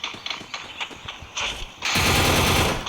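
Rapid automatic gunfire from a Counter-Strike ranked match, starting as scattered shots and swelling after about two seconds into a loud, continuous burst of dense firing.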